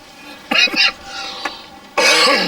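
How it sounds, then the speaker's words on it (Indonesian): A man's smoker's cough: a few harsh coughs in quick bursts, close by, followed after a pause by a longer, rougher cough with throat-clearing. "Batukmu kelihatannya serius."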